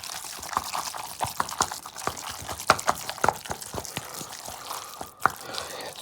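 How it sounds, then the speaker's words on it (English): A spoon works through thick flour and baking powder batter for curried mussel fritters, giving a steady run of wet, sticky clicks and slaps at close range, with no talking. "Next we're going to mix that flour and baking powder in."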